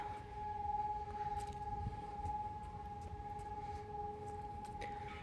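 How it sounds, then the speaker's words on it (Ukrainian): A prolonged air raid siren sounds over a street in Kharkiv, a steady sustained wail holding one pitch throughout, loud and continuous with faint city background beneath. "Мабуть, це відбій, сподіваюсь, бо така затяжна сирена."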